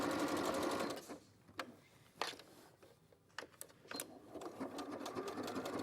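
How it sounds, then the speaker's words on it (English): A sewing machine stitches fabric in a fast, close whirring burst, then stops and gives several short clicks and taps before it whirs again. "So I'm just going to rest this onto the sewing machine"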